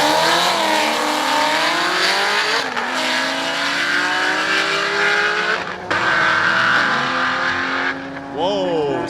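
A 750 hp Audi RS7 and a 700 hp Nissan GTR accelerate hard side by side, loud and close, engines climbing in pitch through several gear shifts with brief dips between them.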